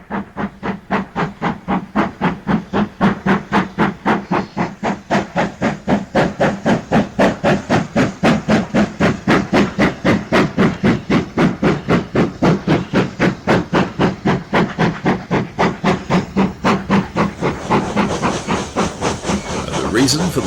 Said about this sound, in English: 9F 92165 is making good speed with a heavy train of loaded oil tanks